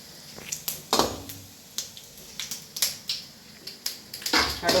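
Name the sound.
mustard seeds spluttering while frying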